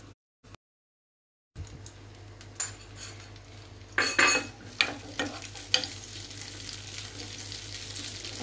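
Diced onions drop into hot oil in a pan for chicken curry, setting off a sizzle that swells in bursts, mixed with light clinks of a utensil against the pan after a brief silent start.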